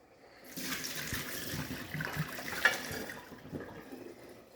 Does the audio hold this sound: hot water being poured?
yes